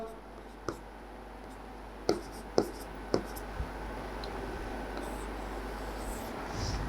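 A pen draws a circuit diagram during a power electronics lesson, with faint scratchy strokes and several short taps of the pen against the surface, near but quiet over a steady low background hum, with no talking.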